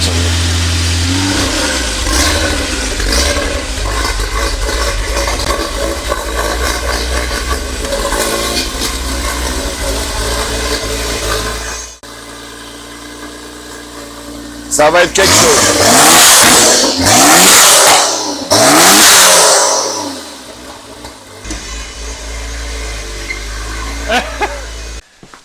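A Citroën AX with a Volvo 2.9 twin-turbo engine idles with a deep, steady rumble, exhaust valve closed, then revs hard in several loud bursts; a voice speaks briefly.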